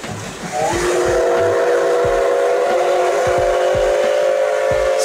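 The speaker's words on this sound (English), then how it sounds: "Steam locomotive." A steam locomotive blows a long, loud whistle over hissing steam, accompanied by rhythmic clanks and chuffs of the running train.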